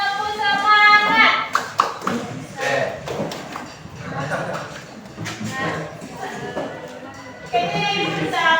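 A classroom group performs the rhythmic "tepuk semangat" clapping routine during a classical guidance lesson, with patterned bursts of hand claps mixed with voices and chanting, loud and close, and talk over much of it.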